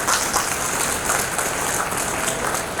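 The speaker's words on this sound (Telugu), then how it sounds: "అలాంటి భారతీయుడికి ఒక్కసారి గట్టిగా చప్పట్లు కొట్టండి" Loud, sustained applause from a large audience at a Hyderabad Arya Vysya gathering, many hands clapping in a dense, steady patter without pause and no speech over it.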